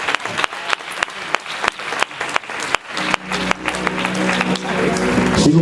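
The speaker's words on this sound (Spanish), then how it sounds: "Dar un aplauso al Señor." A church congregation applauds at a service, a dense spatter of clapping that swells and thickens toward the end, with voices and music rising underneath.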